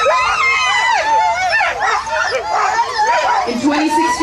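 Sled dogs at the 2017 Yukon Quest 300 start bark, yip and whine excitedly in a continuous chorus, loud and close, while someone talks over them.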